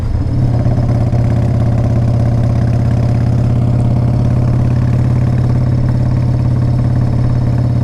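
A 1994 Harley Davidson Fat Boy motorcycle engine runs loud and close at a steady idle, its low throbbing rumble continuous with a faint mechanical clatter and no voices.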